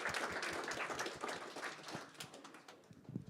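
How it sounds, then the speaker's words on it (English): A hackathon kick-off crowd applauds in a faint, distant patter of scattered clapping that stays steady for a few seconds before thinning toward the end. "Let's all give ourselves a round of applause."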